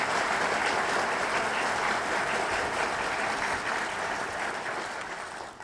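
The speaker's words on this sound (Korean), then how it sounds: "제가 부탁드렸는데 박수 안 치십니까?" Steady audience applause at a justice ministry address by Choo Mi-ae, a dense, even wash of many hands clapping that holds for several seconds before tapering slightly.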